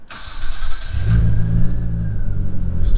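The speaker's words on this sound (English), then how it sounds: "Show you guys the startup sequence here." A Nissan Stagea RS Four S wagon starts up: a brief starter crank gives way to the engine catching and rising into a loud, steady low rumble close by.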